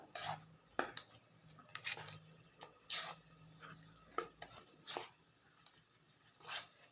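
Milk pudding mixture blended with condensed milk, a spoon scraping and tapping against the bowl in soft, irregular strokes with light clinks, faint and close.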